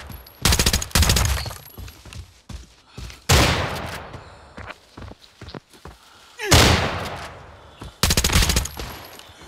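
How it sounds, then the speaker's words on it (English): Gunfire in Arena Breakout comes as several loud, close bursts of automatic fire separated by quieter gaps, each burst a rapid string of shots. "What was this guy shooting?"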